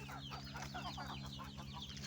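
A small flock of backyard chickens kept on a rooftop clucks in quick, soft, overlapping calls, faint and somewhat distant over a low steady hum.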